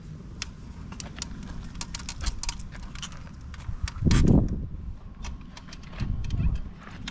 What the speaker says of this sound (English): Fold up the handlebars, latch them